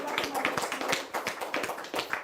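An audience applauds at a Haitian reality show gathering, with a loose rhythm of claps, fairly close and moderately loud throughout.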